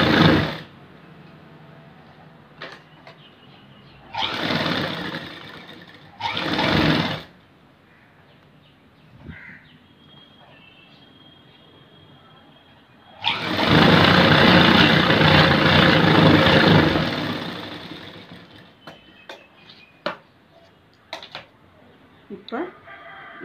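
A sewing machine stitches a small folded edge on a blouse in two short bursts and then one longer steady run of close, rapid whirring, with someone talking in between.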